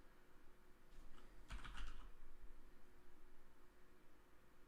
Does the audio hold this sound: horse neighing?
no